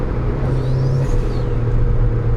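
Turbocharged Toyota Avanza engine running at a steady idle, a close, loud low rumble with a faint whistling whir on top and a slight shift in pitch partway through.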